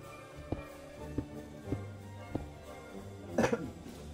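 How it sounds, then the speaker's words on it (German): Several short throat clearings and coughs, spaced about half a second apart, followed by a louder burst, close to the microphone with a faint hum beneath. "Räusper, räusper. Ich hoffe, das hat man jetzt nicht so arg gehört."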